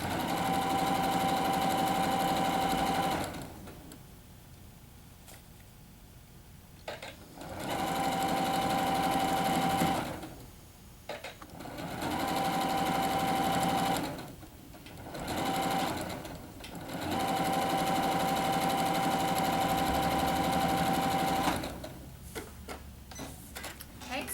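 Sewing machine stitching a seam on a quilt sampler block: loud, close, steady mechanical whirring in several long runs with brief pauses between, and a quieter handling stretch at the end.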